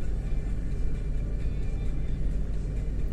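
A car driving along a road under repair, heard from inside as a steady, loud low rumble of engine and tyres with no clear changes in pace.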